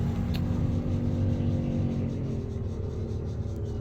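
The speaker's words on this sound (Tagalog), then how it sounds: "Grabe ning mga motor mangagi" Motorcycles rumble past a house, a continuous throaty engine drone with faint revving that holds steady and softens a little toward the end, with no voices.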